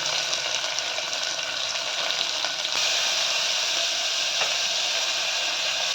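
Onions frying in hot oil with mustard seeds and cumin for kovakkai gothsu give off a steady, close hiss and sizzle that grows a little louder midway, with no talking.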